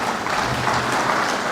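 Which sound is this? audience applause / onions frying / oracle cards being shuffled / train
audience applause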